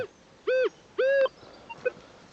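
Two short electronic beeps from a metal detector, clear and tonal, sound one after another as a coin-like target tone, followed by a couple of fainter chirps.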